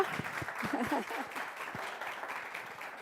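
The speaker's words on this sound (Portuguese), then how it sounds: "Uma salva de palmas para a Lívia." A short burst of applause from a small crowd welcoming a speaker at a lecture event, steady clapping that gradually thins out, with a voice faintly audible underneath.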